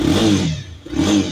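A 2022 Honda CBR300R with its 300cc engine revs twice in quick succession, two loud, close throttle blips with a brief dip between them, no talking.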